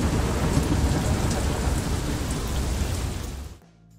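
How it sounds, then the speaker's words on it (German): Heavy rain drumming on the metal walls of a boat in a video game, a dense continuous roar that cuts off abruptly near the end. "man entspannt durch die Landschaft schifft und dem Regen dabei zuhört, wie er klappernd gegen unsere Metallwände plästert"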